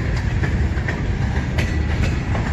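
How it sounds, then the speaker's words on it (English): A CN double-stack freight train rolls past at close range at Emmett, Michigan, with a loud steady rumble and rhythmic clickety-clack of wheels over rail joints. "CN M496 meets westbound train CN double stack."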